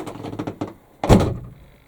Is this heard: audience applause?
no